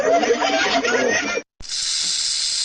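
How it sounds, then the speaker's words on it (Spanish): A snake hisses in a steady, breathy stream, moderately loud, broken by a short gap and then a second, brighter continuous hiss. "La serpiente."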